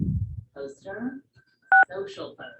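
Two-tone keypad beeps from a caller pressing star-six to unmute on a phone line into a poetry reading's conference call, a short steady tone between stretches of talk.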